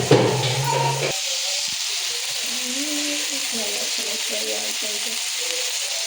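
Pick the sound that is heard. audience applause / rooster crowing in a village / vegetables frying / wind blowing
vegetables frying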